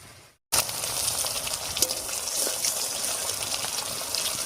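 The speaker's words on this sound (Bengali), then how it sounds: "এবার ঝোলের জন্য অল্প জল দেব।" Water poured into a pan of Bengali magur fish curry after the spices are fried down in oil, heard close up as a steady gushing pour that sets off a sizzling hiss, beginning abruptly after a brief pause.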